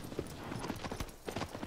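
A horse's hooves clip-clop steadily in Shadow of the Colossus, a continuous rhythmic trot of hoofbeats, moderately loud and close over a game background.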